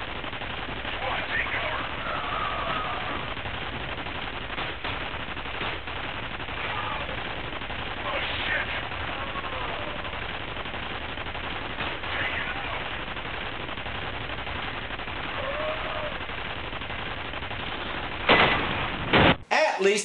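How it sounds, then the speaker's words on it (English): Ceiling turret machine gun fire in the video game F.E.A.R., rapid continuous bursts of gunfire with game combat noise filling the scene, recorded with a muffled, band-limited quality. "Along the way, you occasionally get to use some of those ceiling turrets"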